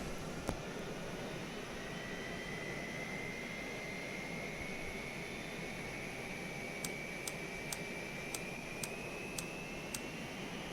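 A jet aircraft engine in a flight simulator game steadily winds up as a continuous broad roar with a slowly rising whine, then a run of evenly spaced cockpit clicks near the end.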